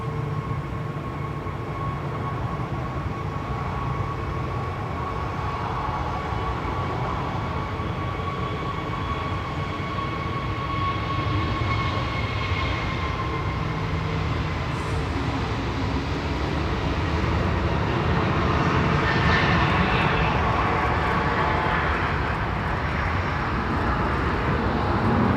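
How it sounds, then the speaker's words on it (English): A Loganair ATR 72-600 turboprop airliner lands at Manchester Airport, its steady engine drone and broadband roar holding for a long stretch and swelling slightly louder toward the end, with no talk over it. "coming in on short final now is first Logan Air of the day, LM693 from the Isle of Man"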